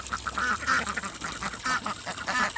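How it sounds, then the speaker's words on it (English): A grown duckling quacks repeatedly in short, nasal bursts, several calls spread across a few seconds at moderate distance, with no talking over them. "Silly duck."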